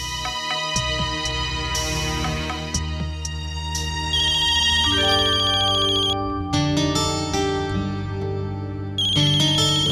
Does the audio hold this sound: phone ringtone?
yes